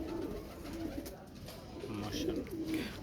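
Rampuri pigeons cooing amid the bustle of a pigeon market in Shahdara, Lahore, a low steady murmur of soft coos repeating through the crowd noise with faint voices in the background.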